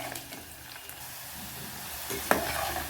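Onions browning in a pan for a Marathi-style cauliflower and potato curry, a soft steady sizzle with occasional stirring scrapes and a brief clatter near the end, no voices.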